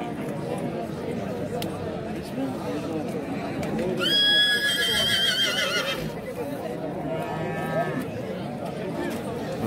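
A horse at a horse market in Nookat gives a loud, drawn-out whinny over the murmur of a busy outdoor crowd, followed by a shorter fainter neigh.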